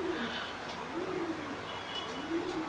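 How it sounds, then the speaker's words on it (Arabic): Homing pigeons coo steadily in a loft, soft repeated low coos rolling one after another at moderate distance against a faint background hum. "فانا النهارده حبيت اوريكم قص عندي حمام زاجل"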